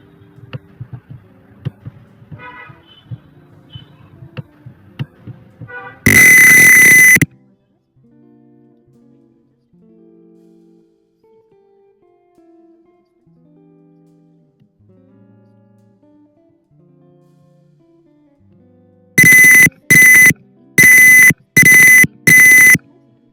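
Piezo buzzer in an Arduino parking slot indicator simulation sounds bright electronic beeps: one long tone early on, then five rapid evenly spaced bursts near the end, loud and alone over faint background clicks.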